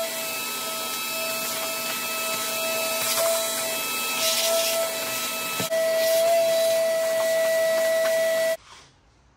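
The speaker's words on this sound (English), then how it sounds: "vacuum out the cowl and the engine bay" A vacuum cleaner sucks debris from the cowl and engine bay of an abandoned JDM Honda Legend, a loud, steady hissing roar with a sustained tone that shifts midway and then shuts off.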